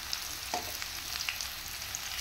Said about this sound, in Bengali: একটু হলুদ আর লবণ দিয়ে ঢাকা দিয়ে ভেজে নেব।